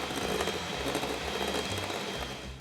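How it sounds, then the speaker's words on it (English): An egg is mixed with sugar for Estonian gingersnaps, a steady mechanical whirring and clattering at moderate level that continues evenly throughout. "we're going to mix it up together with the sugar"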